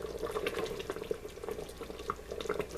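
Mushroom gravy bubbles and simmers with pork chops in a pressure cooker pot, giving a soft, steady sizzle dotted with small irregular pops and bubbles, fairly close and quiet.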